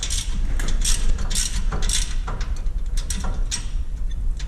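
A ratchet wrench with a 3/4 inch socket snugs up suspension connections on a Ford F-350, giving loud, close, rapid clicking bursts of the pawl in repeated strokes with metallic rattles between.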